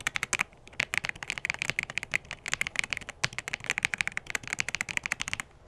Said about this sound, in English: This Red Dragon mechanical keyboard is one of my favorite desk upgrades.